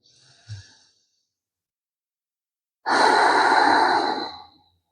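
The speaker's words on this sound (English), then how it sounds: "let's take 2 more deep breaths in and out here" Deep breathing during a beginner yoga stretch: a soft, short breath near the start, a pause of silence, then one long, loud, close exhale lasting about two seconds.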